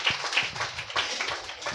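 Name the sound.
congregation clapping hands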